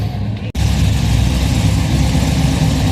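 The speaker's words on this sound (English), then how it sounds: "HQ Holden making some very nice sounds too tonight" A HQ Holden GTS engine rumbles steadily and close at a car meet, a deep continuous idle broken by one brief dropout early on.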